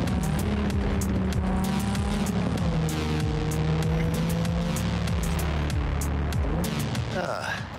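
A car driving in Cyberpunk 2077 gives a steady engine drone with shifting revs and occasional tire squeal, loud and continuous, while someone talks over it.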